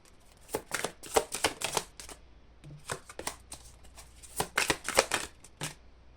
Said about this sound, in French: j'ai envie encore de tirer des cartes